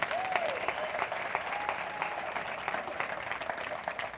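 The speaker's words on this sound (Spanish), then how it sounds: "Si va a aplaudir, aplauda con ganas." Church congregation applauding during a sermon, a steady, fairly faint wash of many hands clapping that holds throughout with a brief voice near the start.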